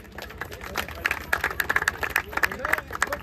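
An audience at a tennis-ball cricket league ceremony claps in a sparse, uneven patter that swells and fades, with voices murmuring underneath.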